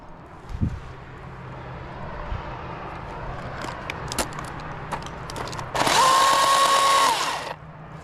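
A battery chainsaw used for professional tree work revs loudly for about two seconds near the end, cutting into a tree after a stretch of quiet outdoor background with scattered small knocks.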